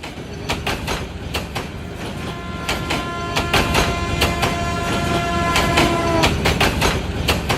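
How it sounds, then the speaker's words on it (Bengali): A night train runs steadily in a cartoon, with a loud continuous rumble, a rhythmic clickety-clack of wheels and a sustained horn-like tone sounding through the middle. "এরই মধ্য দিয়ে ছুটে চলছে রাতের ট্রেন।"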